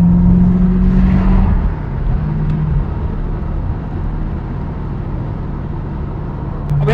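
TVR Chimaera engine revving under hard acceleration on an open road, a loud, steady low rumble with a rising drone that holds close and alone throughout.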